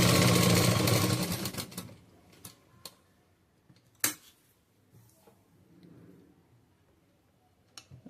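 A sewing machine stitches lining onto the main fabric of a saree being made into an umbrella churidar. The machine runs loudly for about two seconds, stops, and leaves scattered quiet clicks and fabric handling noises.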